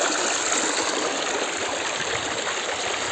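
The Dhansiri river near the Assam-Nagaland border flows with a steady, dense rush of water, a continuous close hiss with no pauses.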